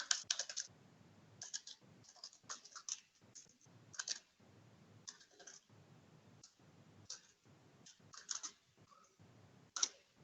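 Someone types code on a computer keyboard, producing quiet, irregular bursts of key clicks with short pauses between them and no talking.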